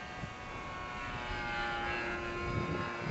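Peregrine flying-wing model aircraft on its maiden flight, a steady close whine of its small propeller motor droning continuously as it flies past the runway.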